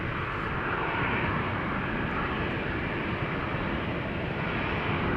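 A KLM Boeing 737-800 jet departing Amsterdam Schiphol for Helsinki, a heavy continuous engine roar, close and loud, holding steady for several seconds with no talking.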